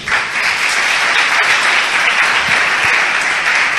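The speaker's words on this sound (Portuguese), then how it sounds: "Dá um lindo aplauso ao Espírito Santo" Dense, steady applause from a church congregation during a service, sustained and fairly loud throughout.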